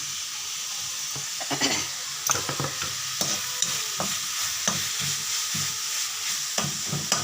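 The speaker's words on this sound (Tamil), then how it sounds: "போட்டு நல்லா வதக்கணும்." Tomatoes with turmeric and chili sauté in a pan, sizzling steadily while a spoon stirs and scrapes in irregular bursts, close and fairly loud with no talking.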